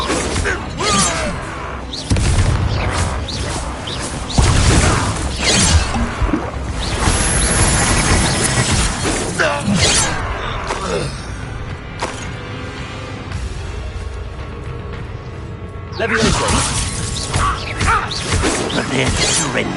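Explosive spells go off repeatedly in a Hogwarts Legacy battle. Loud blasts, crashes and shattering hits come in quick succession over dense game sound and a steady rumble, then ease off before another burst near the end.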